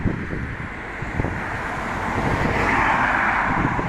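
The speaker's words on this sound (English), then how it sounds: "there's a lot of wind coming at me" Strong wind buffets a microphone outdoors under an overcast sky, making a continuous low rumbling roar that swells slightly toward the end, with no talking.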